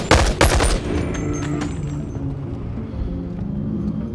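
Submachine gun fire in the VR shooter Boneworks, a couple of sharp loud bursts at the start followed by a sustained rumbling wash of shots and echoes that stays steady and dense to the end.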